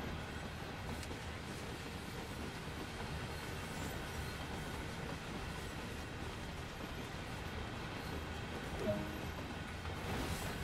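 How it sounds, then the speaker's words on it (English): A freight train on the Clinchfield Railroad in the game Train Sim World 2 rumbles past as a steady, continuous low roar with wheel and rail noise, holding an even level throughout with no talk. "I want to wait till that train goes past"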